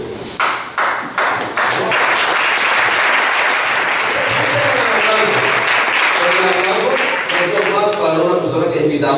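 A seminar audience applauds invited guests, starting with a few separate loud claps that quickly merge into full, steady applause. Scattered voices can be heard underneath the clapping.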